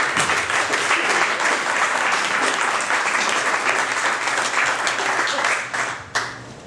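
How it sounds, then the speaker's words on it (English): Loud, sustained applause from an audience for an introduced guest, dense steady clapping filling the whole stretch before tapering briefly near the end. "let's have a big round of applause for Mr."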